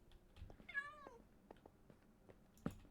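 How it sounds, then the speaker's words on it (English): A cat meows inside a cave in the video game Minecraft, a single clear, fairly quiet meow set among faint, sparse game sounds. "Okay, cat in a cave."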